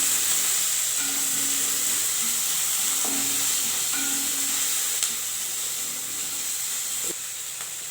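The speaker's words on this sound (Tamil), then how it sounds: "பொடியாக அரிஞ்சு வச்சுருக்க ஆனியனை போட்டு நல்லா வதக்கிக்குவோம்" Finely chopped onions sauté in a hot pan, a steady moderate sizzle and hiss with occasional stirring clinks and scrapes, no voices.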